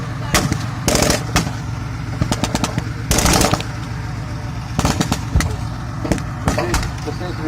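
Bursts of machine-gun and rifle fire crackle loudly at a wartime battle reenactment in an arena, with German anti-tank artillery in play, coming in repeated sharp volleys over a low engine rumble, with a commentator talking over it.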